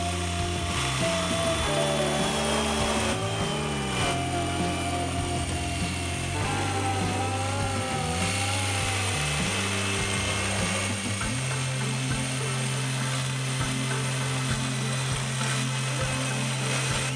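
A power tool whines steadily while cutting the tips of wooden pergola rafters, a loud continuous shifting drone with changing pitch and no talk.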